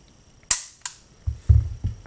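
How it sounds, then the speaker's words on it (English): Single-action trigger pulls on a West German SIG P226 pistol: two sharp, close metallic clicks, then a few duller knocks of handling the gun, with no talk. "Let's try the single action shot."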